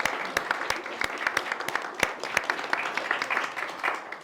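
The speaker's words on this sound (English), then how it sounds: "I think that deserves a round of applause." Wedding guests in a barn ceremony applaud with moderate, scattered clapping, sharp individual claps standing out from a softer wash, a few murmurs beneath.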